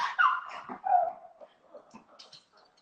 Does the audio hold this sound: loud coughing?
no